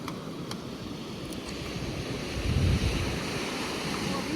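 Soft surf washing onto a beach at Ladram Bay in Devon, a gentle low rumble with wind buffeting the microphone and a slightly louder wave surge midway, fairly quiet and without voices.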